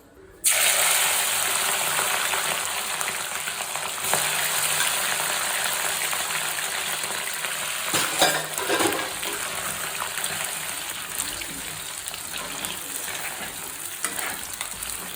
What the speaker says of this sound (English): Keep the flame in medium and add our prawns.